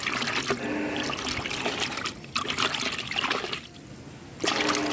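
Continuous splashing and sloshing of water as chrysanthemum cuttings are shaken around in it, close by, with short pauses in the swishing.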